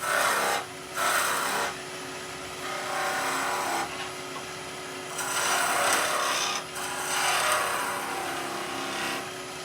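A wood lathe spins while a tool shapes a wooden ball for a Christmas tree ornament, giving long rasping, scraping passes in several sustained bursts over a continuous motor whine, close and loud.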